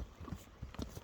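Horse walking with a few hoof clip-clops, soft and fairly distant, spread unevenly over a short moment with faint background noise, at a horse sale.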